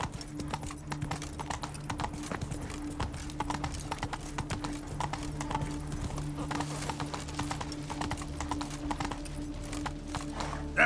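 Hooves of Geralt's horse Roach in The Witcher 3 trotting in a steady, brisk clip-clop rhythm, close and continuous throughout, over a faint low hum.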